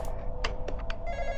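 A telephone rings in the Roblox game The Intruder, loud and close, with bright bursts of bell trills followed by a sustained electronic ringing tone.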